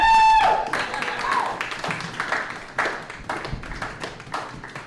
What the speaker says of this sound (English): Now, clap, because unlike my drug dealer,